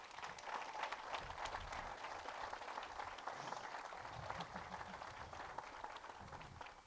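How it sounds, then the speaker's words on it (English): Steady applause from a crowd at a middle school groundbreaking ceremony, dense continuous clapping with a murmur of voices underneath, holding at an even level throughout. "So please give them a round of applause."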